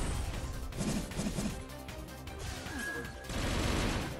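Gundam mobile game shooting, with rapid bursts of gunfire, smashing impacts and crashes, plus a brief electronic whine, all busy and dense over the game's background music, with no speech over it.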